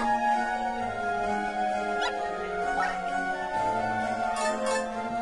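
A dog barks and yips in the video game Rosenkreuzstilette Freudenstachel, short sharp calls scattered over steady game music that stays loud throughout.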